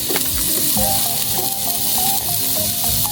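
Ginger frying in hot olive oil for chicken adobo, a steady close sizzle with stirring scrapes and light clinks throughout.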